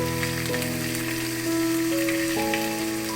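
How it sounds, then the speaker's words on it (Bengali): Turmeric and chili powder frying in hot oil for a Bangladeshi mug dal and rui fish head muri ghonto, a steady close sizzle and crackle under a sustained tonal hum. "মশলাগুলোকে আবার ভালো করে ভেজে নেব"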